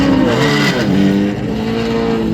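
Corvette GT race cars roar past one after another at the 24 Hours of Daytona, engines revving and pitching down as they pass at close range, loud and continuous.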